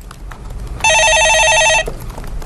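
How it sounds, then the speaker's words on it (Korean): A telephone rings steadily for about one second in a radio studio during a Korean stock-market call-in show, the tone clear and loud over a quiet room background with no talk during the ring. "예, 전화 받아보겠습니다."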